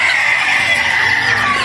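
Native chickens raised in Polomolok clucking continuously at close range, a steady, busy flock sound with no talking.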